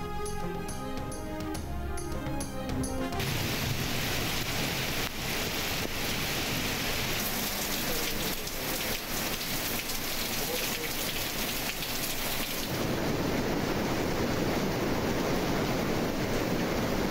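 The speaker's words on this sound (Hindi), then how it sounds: "लाहौर और गिरदोनवा में रात गए मूसलाधार बारिश।" Torrential rain pours at night in Lahore, a dense, steady hiss of heavy downpour that continues throughout, preceded briefly by a musical sting at the start.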